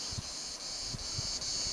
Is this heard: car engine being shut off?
no